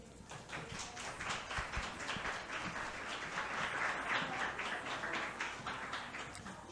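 Audience applause for a presenter at a talk on conspiracy theorists, a dense, fairly faint patter of clapping from a small crowd, steady throughout with slight swells.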